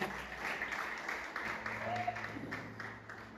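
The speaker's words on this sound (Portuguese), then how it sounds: "Pode aplaudir ao Senhor e se assentar" A church congregation applauds briefly and faintly, scattered claps under murmuring voices and a low sustained tone, rising and settling over a few seconds.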